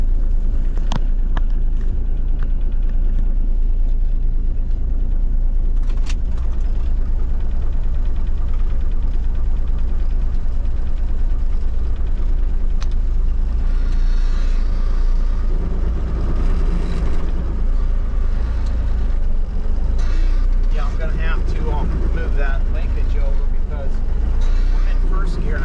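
A cabover truck's engine idles and rumbles continuously at close range as the rig is moved, with a low steady drone and some shifting mechanical noise, while someone talks over it.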